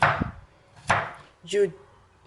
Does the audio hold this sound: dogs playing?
no